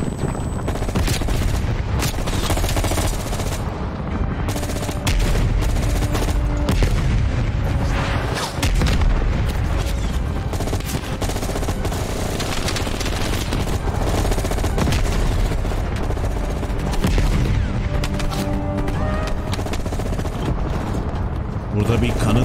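Explosions and heavy gunfire from the Call of Duty: Black Ops Cold War video game, loud and dense with booming blasts layered over continuous battle noise for the whole stretch.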